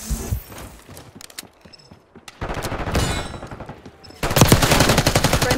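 Gunfire in the video game Black Ops 6, loud bursts of automatic fire with rapid shots and short pauses, growing heavier toward the end of the exchange.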